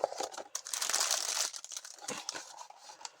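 Plastic sticker sheet from a diamond painting kit crinkling and rustling close up in continuous, uneven handling bursts at fairly low volume.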